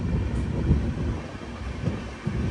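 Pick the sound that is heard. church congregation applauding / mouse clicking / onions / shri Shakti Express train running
shri Shakti Express train running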